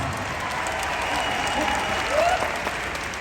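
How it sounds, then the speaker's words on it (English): Steady applause from a convention audience fills the space, sustained clapping with a faint voice rising over it near the end. "give her a round of applause"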